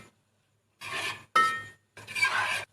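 A spoon scrapes and clinks against a bowl while mixing chili sauce and vinegar, three short close bursts of metallic rubbing separated by brief silences.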